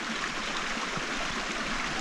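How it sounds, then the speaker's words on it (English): Steady rainwater trickles and drips down a log at a trail rain shelter in the Colorado mountains, a continuous close wash of water noise with no clear separate drops. "The water dripping down the log is my biggest concern right now"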